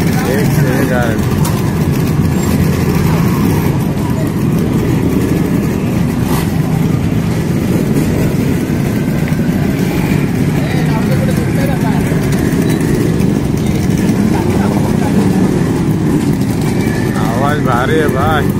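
Yamaha RD 350 motorcycles, including a blue five-speed model fitted with a cat silencer, run and rev at a rally in a steady, loud engine drone, while someone talks over the noise.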